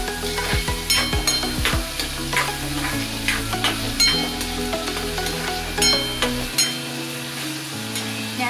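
Onions frying in oil over a medium gas flame for egg bhurji, with steady close sizzling and repeated stirring scrapes and clinks throughout.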